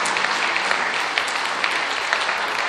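An audience at a cooking competition final applauds the team from Amiens with steady, dense clapping that fills the hall without pause.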